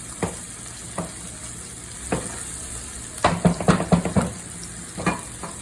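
A spoon stirs thyme through a sizzling pan for vegan seafood lasagna, giving a handful of short scraping clinks over a soft, constant fry hiss, with a quick cluster of strokes near the middle.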